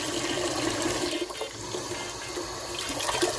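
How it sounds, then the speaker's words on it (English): Lukewarm water pours steadily into a pot of basmati rice for washing in a home kitchen, a loud, continuous rushing gush that fills the whole stretch with no speech. "So I put some lukewarm water in."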